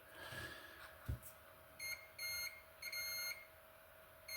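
A multimeter on continuity mode sounds a series of short, clean electronic beeps as its probes touch capacitors on a Nintendo Switch board, with brief quiet gaps between tones.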